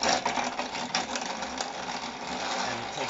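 A hand-cranked grain mill crushes olives into paste, making a steady, dense grinding and rattling churn that continues without a break, close and loud, with no talking over it.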